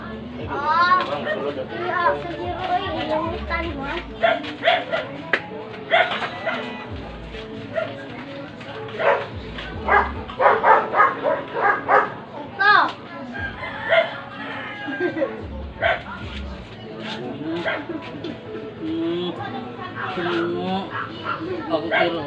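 Small puppy giving short yappy barks in bursts amid busy outdoor surroundings, with people talking and fowl sounding nearby.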